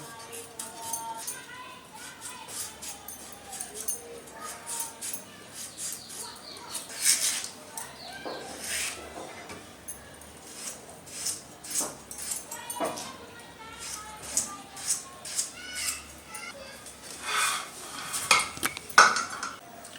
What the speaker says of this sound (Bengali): এবারে আলুটাকেও কেটে নেব।